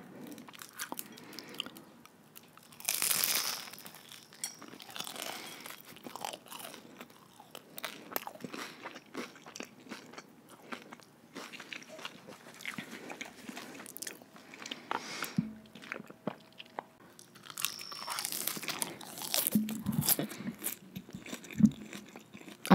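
Crunchy vegan egg roll bitten and chewed close up, with crisp crunching bites and wet chewing in bursts and a louder crackle of crunches near the end.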